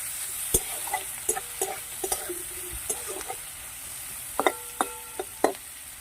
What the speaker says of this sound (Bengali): পেঁয়াজটাকে একটু ভালোভাবে তেলের সাথে ভেজে নেব লাল লাল করে